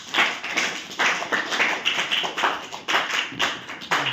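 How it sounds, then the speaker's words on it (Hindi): Children in a classroom clapping for a classmate, a run of quick group claps in uneven bursts of several beats each, loud and close, with no talk over them. "डैफोडिल के लिए फिर ताली बजाओ"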